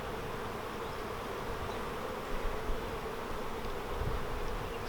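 Honey bees buzzing steadily around an open nuc hive during an inspection, a dense close hum with individual bees passing near, no talk.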